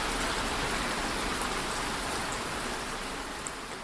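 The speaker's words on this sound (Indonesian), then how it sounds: "Contohnya seperti hujan" Steady rain falls on a surface in a dense, even hiss that stays loud and constant throughout, with a few droplet ticks.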